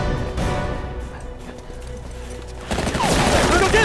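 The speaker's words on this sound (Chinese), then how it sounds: "枪声， 不对，枪声怎么那么近？" Heavy gunfire in a war film set during the anti-Japanese war: a dense, continuous volley of shots that swells louder near the end, with voices mixed in.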